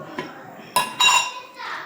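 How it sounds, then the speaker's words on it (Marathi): A metal kadhai is set down on a lit gas stove with two sharp ringing clanks close by, among softer kitchen clinks. "आता कढई ठेवते गॅसवर"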